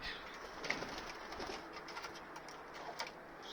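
Pigeons coo softly in a loft, with low murmuring calls and faint rustling over a quiet steady background, no talk present.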